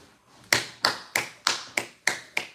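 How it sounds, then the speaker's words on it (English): Seven sharp hand claps ring out close and fairly loud, evenly spaced at a brisk steady pace, each with a short bright decay and no voices over them. "Round of applause."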